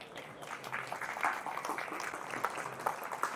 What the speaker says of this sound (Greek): ήρθε η ώρα να χειροκροτήσετε